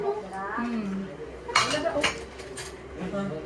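Plates and spoons handled at a home Mother's Day celebration, with clattering dishes and clinking cutlery in quick bursts, close by, as people talk over them.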